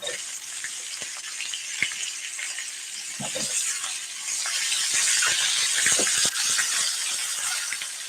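Portabella mushrooms sautéing in a pan give a steady, close sizzle and hiss that swells louder partway through, with a few soft clicks and knocks of cookware.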